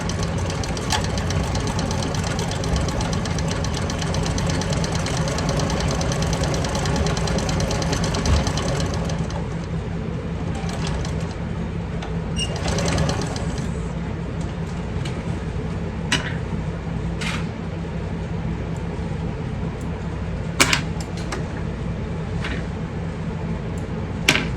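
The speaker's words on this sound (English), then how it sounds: "we're just going to stitch this at 3/8 of an inch, just like we did the other side" A sewing machine stitching handbag fabric at a 3/8 inch seam runs as a steady, loud mechanical drone, with a few sharp clicks and taps near the end.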